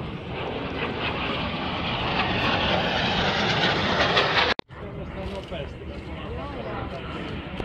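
A Fouga CM-170 Magister jet taking off at an airshow in Finland, a loud broad jet roar that holds steady and then drops sharply, with a voice talking over it.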